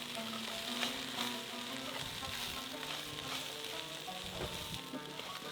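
Kibbeh stuffing with sumac sizzling in a hot pan, with stirring scrapes and light clinks over a continuous, even frying hiss.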